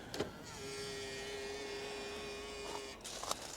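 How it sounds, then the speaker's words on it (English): A Mitsubishi ASX 4x4 with high mileage folds out its electric wing mirrors on keyless unlock: a quiet, steady motor whine lasting about two seconds, bracketed by faint clicks at the start and end. "rather than pressing the button on the fob to unlock the car, which we hope will also fold out these mirrors"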